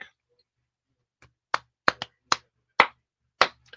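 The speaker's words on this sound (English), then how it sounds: "Wow, you can hear that clapping" A handful of separate hand claps at a theme park, sparse and irregularly spaced, fairly faint and somewhat distant, with quiet gaps between them and no talk.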